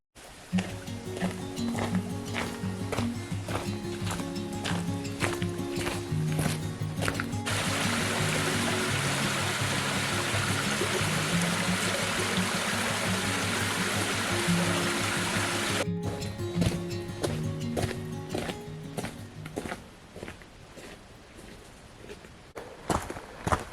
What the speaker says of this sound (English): There's some kind of river crossing up ahead of us.